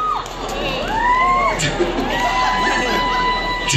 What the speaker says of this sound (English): Massive cheer, everyone.